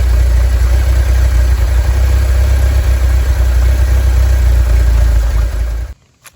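A 1985 VW Vanagon engine idles just after starting, its loud, steady low rumble close up and unbroken for about six seconds before cutting out abruptly.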